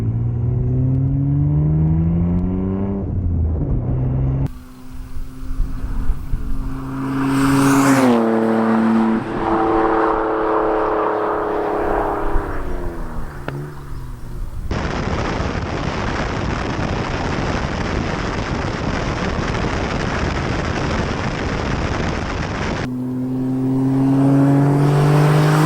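An R32 Skyline GTR accelerates hard through repeated pulls, its engine revving up in rising sweeps between gear changes, then a long wind-rushed roar before another climb in revs.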